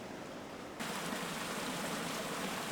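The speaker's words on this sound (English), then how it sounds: "I think I hear a little waterfall too." Steady broadband rush of a small waterfall beside a hiking trail on a descent, swelling suddenly louder partway through as it comes into closer range, then holding constant with no talk over it.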